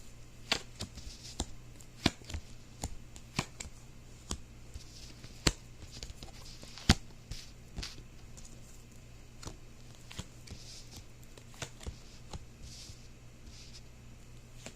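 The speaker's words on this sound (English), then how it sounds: "So, give this deck one more shuffle," A tarot card deck being shuffled: very quiet, irregular soft taps and flicks of cards close by, scattered over several seconds with no talk.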